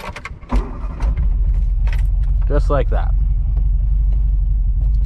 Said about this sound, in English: the car starts up like a charm every time